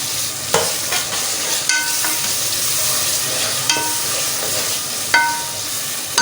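Ridge gourd, tomatoes and chillies fry and sizzle in a pan as a steady hiss, broken by a few sharp stirring clinks and scrapes close by.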